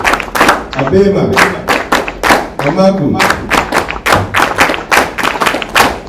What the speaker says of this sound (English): So remember when I say Atama, one clap.